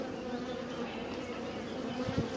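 An orphaned honeybee swarm clustered in a hive gives off a dense, continuous buzzing hum at close range, steady and fairly quiet.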